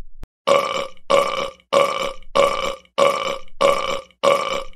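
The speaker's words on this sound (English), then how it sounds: "how dare you burp in class?" A repeated burp sound effect in a classroom cartoon scene, seven identical loud, close belches in a steady rhythm with short gaps between them.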